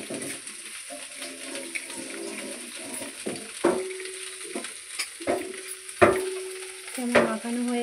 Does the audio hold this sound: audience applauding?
no